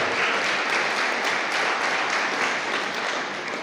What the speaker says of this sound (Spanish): Si va a aplaudir, apláudele fuerte al Señor.